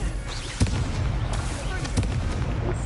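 A fire spell, Incendio, goes off in a video game with a steady roaring crackle and a few sharper bursts and pops, over a constant busy background with some voice.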